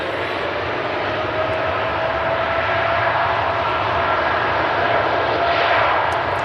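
A TUI Boeing Dreamliner jet takes off at Manchester Airport, its engines a loud, steady broadband roar that holds constant and swells slightly toward the end.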